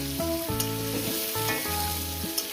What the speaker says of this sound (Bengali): বেগুন আর কাঁচা লঙ্কাটাকে আরও মিনিট দুই ধরে ভেজে নেব